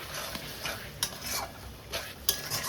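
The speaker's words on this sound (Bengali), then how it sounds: "এখানে মাংসটা এখন কষাচ্ছি, সরি মশলাটা কষাচ্ছি।" Spices being stir-fried in a pan for mutton curry in a home kitchen, a dense continuous sizzle with repeated scraping strokes of a spoon and a few sharp clinks against the pot.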